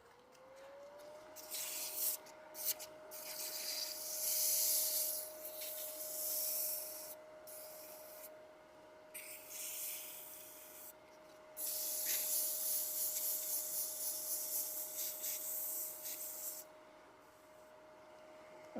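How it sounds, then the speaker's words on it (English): Sandpaper rubbing across a wooden box spinning on a lathe, a steady hissing rasp that swells and eases in several passes over a constant motor tone, with no talking. "I'm going to sand that a little bit."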